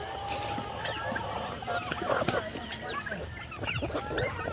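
Pet turkeys feeding on fruit scraps in a yard, with a steady stream of clucks, gobbles and short calls overlapping one another at close range, plus some faint voices in the background.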